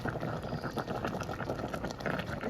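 A pot of Mexican mole sauce simmers and bubbles steadily, with dense close popping and blipping that carries on evenly and alone throughout.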